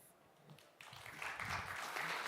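Applause from the audience at a startup pitch event on a founders stage, starting faint and swelling into a fuller, steady clapping toward the end.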